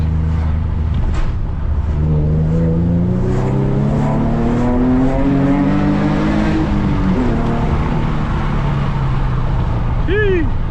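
A Nissan G37 engine rises in pitch as it accelerates, loud and close inside the car, with a brief chirp near the end.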